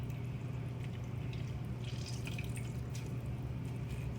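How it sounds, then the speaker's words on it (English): Water dripping and trickling from squeezed, strained soba noodles in a home kitchen, a steady close patter with no talking. "squeeze out the water."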